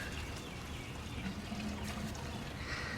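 Fuel pours in a steady, soft trickle into a motorbike's tank, the low gurgle running continuously and close over quiet background hiss.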